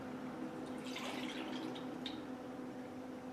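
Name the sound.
warm water being poured into a bowl for bread dough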